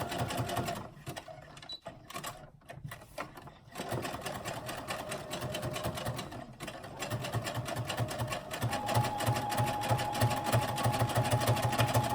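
Sewing machine top stitching a seam, running steadily close by with a fast mechanical rattle, briefly pausing and restarting before settling into a continuous, slightly louder hum.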